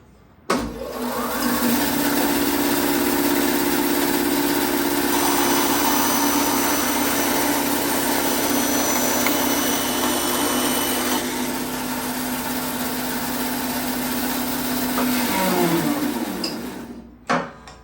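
A Laguna 14BX bandsaw runs steadily as its blade cuts through wood, a loud continuous whine and rumble sustained for about fifteen seconds before spinning down.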